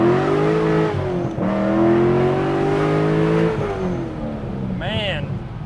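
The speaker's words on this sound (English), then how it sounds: "let's demonstrate the capability of the LS7 underneath the hood here. Turn around here, do a little acceleration." A 2003 Chevrolet Corvette Z06 with an LS7 V8 accelerates hard from inside the cabin. The engine note climbs in a loud, rising roar, eases off, then a short voice is heard at the end.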